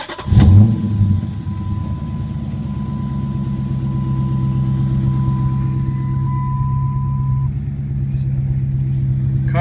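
A Dodge Challenger SRT8 392 V8 starts with a sharp burst, then settles into a loud, steady, close-up rumble with throaty revving and a sustained whine running over it, no voices.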